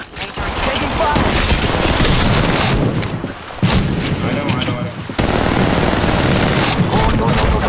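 Dense bursts of automatic gunfire from a mobile battle-royale shooter, Apex Legends Mobile, rattle almost nonstop and loud, with brief gaps between volleys and a few heavier booms mixed in.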